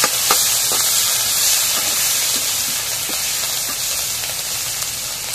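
Dried fish frying in hot oil in a home kitchen: a steady, bright sizzling hiss with faint crackles and pops, close and constant, with no talking.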